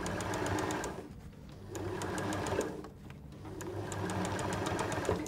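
Sewing machine stitching a fabric liner to quilted outer fabric along the line of quilt wadding for an egg cosy, running in three steady close bursts of rapid rhythmic needle chatter with brief pauses between them.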